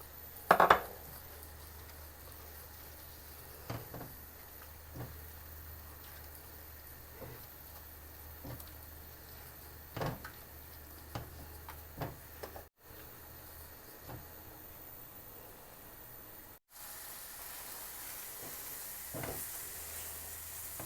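Egg halwa cooking in ghee in a pan, a low steady sizzle and hiss of frying with occasional sharp clinks and scrapes of a spoon against metal, heard close and fairly quiet, with no voices.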